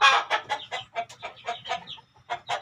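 A plump chicken clucks in a quick run of short, sharp calls, close and fairly loud, with brief pauses between bursts and no talking.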